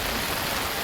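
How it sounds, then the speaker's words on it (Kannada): Heavy rain falling in a forest, a dense, loud, unbroken hiss with no gaps over a short stretch. "ನಡಿಲಿಕ್ಕೂ ಆಗೋದಿಲ್ಲ ಈ ಮಳೆಗೆ"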